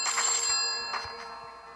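Telephone ringtone ringing during a survival island video game session, a steady electronic tone with bright repeating pulses, fairly loud and close, with no talking over it.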